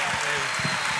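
A church congregation applauds in a brief burst of dense, bright clapping, with a voice and tonal sound mixed in over it.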